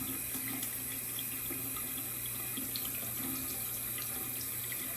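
Tap water runs steadily into a sink while a shaving brush soaks under the stream, a constant close splashing hiss for the whole stretch with no talking.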